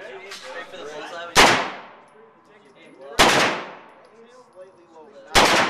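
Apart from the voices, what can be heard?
gunfire at a shooting range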